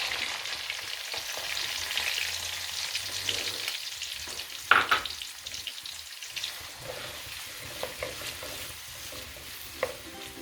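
Onions frying with cumin in a pot for chicken pulao, a close, crackling sizzle with scattered spoon clinks and scrapes as they are stirred, one sharper knock midway.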